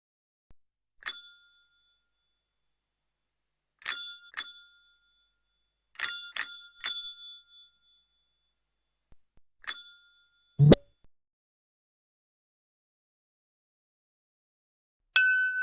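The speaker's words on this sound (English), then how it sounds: "Bicycle bell." Bicycle bell rung alone in a series of short bright dings, singly and in quick pairs and triplets with gaps between, clear and close, with one sharp low thump and a final ring at the end.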